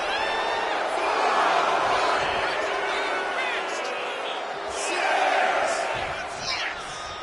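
Crowd noise in the WWE 2K25 wrestling video game, a steady loud roar of cheering and shouting from a packed arena that swells twice, with scattered higher calls on top.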